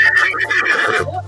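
Horse neighing in the film The Color Purple, one loud, close, quavering whinny that trails off into a low snort.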